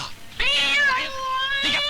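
A single drawn-out cat meow, close and clear, rising then falling, followed by a short second mew.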